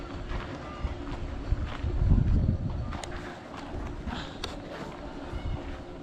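A steady engine drones up close with a rough, rumbling texture, swelling briefly louder partway through before settling back to an even hum.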